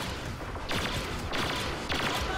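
Two bursts of rifle fire in a video game, each a quick rattle of shots, the second and a third onset standing out over a steady background din with no talk.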